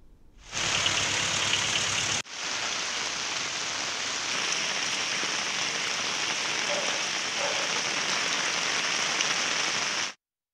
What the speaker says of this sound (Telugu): తమిళనాడు జిల్లాలో ఎడతెరిపి లేకుండా వర్షాలు కురుస్తున్నాయి